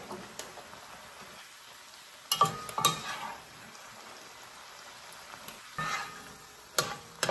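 Shrimp and pork frying in a pan for Filipino pancit gisado, a quiet steady sizzle broken by a few sharper scraping stirs and utensil knocks, with no talking.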